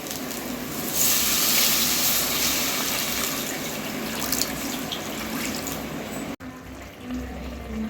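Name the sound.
water poured into curry pot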